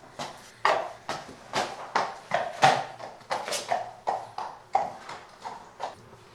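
A horse walks over a sheet of black plastic tarpaulin, each step landing as a distinct crinkling, crackling clop in a steady, slightly uneven rhythm, close and fairly loud with no other sounds.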